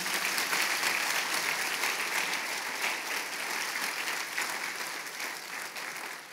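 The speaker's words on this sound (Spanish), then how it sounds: "Denle un aplauso fuerte al Señor" A church congregation breaks into loud, sustained clapping during a sermon, a thick wash of applause that fades slightly toward the end.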